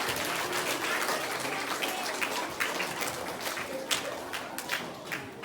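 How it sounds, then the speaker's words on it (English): Room audience at a presentation on autism claps for a young boy, a brisk, close, crackling burst of applause that holds steady for several seconds. "So round of applause for Josh."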